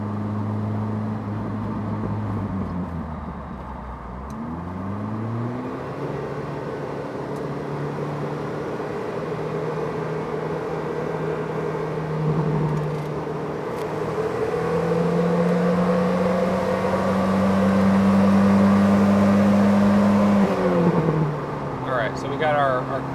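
A Citroen DS21 engine revs up through the gears on a quick pass to about 4,500 RPM, a rising and falling mechanical drone heard from inside the car, steady and fairly loud with a brief dip as it shifts.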